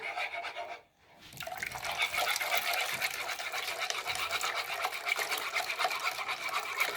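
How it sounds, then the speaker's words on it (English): Milk being whisked into an egg mixture for flan, a steady wet scraping and sloshing that runs continuously and close after a brief pause near the start, with no talking. "Whisking at the same time."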